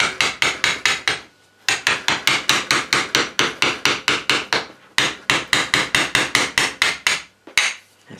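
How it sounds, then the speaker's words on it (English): A small hammer strikes metal while a fish disgorger is being made, giving fast, evenly spaced, sharp taps close by in three long runs with brief pauses between them. "I think I might use a hammer on this. Got a small one here"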